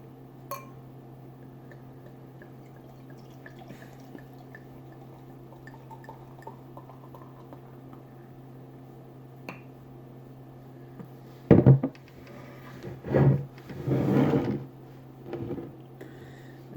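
A homebrewed beer can is cracked open without a hiss and poured into a glass, producing a sharp click followed by bursts of glugging, fizzing liquid after a long near-silent stretch.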